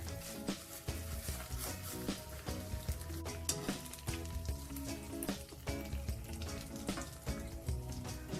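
Pork belly skin pan-frying in a hot pan, a steady close sizzle and crackle with scattered pops and light clinks of utensils throughout.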